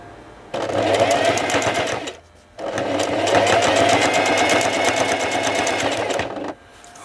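A sewing machine stitches a pocket on a pair of jeans in two steady, rapid runs, loud and close, separated by a short pause.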